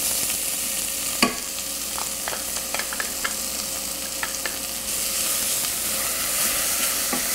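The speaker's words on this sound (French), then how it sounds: "J'ajoute les oignons sur l'huile d'olive." Onions sizzle in olive oil in a saucepan, a steady bright frying hiss with scattered clicks and scrapes of stirring, and no voices.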